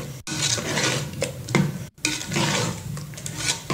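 Sweet pongal is stirred in a pot after strained cooked jaggery syrup with cardamom is poured in, giving close, repeated scraping and clinking strokes of a spoon against the pot with a soft wet churning between them.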